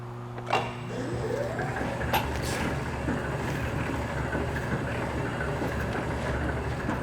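A Robopac horizontal semi-automatic stretch wrapper revolving, giving a loud, continuous mechanical whir and rumble with a steady motor hum, a few knocks and clicks near the start, and no talking.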